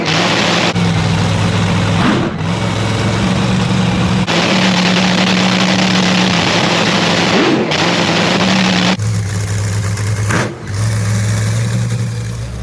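A nitro drag racing engine fires up and is revved in sharp throttle blasts, an extremely loud, close, crackling roar that surges and briefly dips between bursts, with no talk over it.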